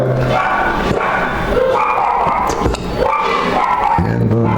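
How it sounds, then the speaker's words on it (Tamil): A dog barks repeatedly amid a noisy, busy background, with yelping calls coming in short bursts over a few seconds. "நாய் கத்திட்டு கிடக்குது"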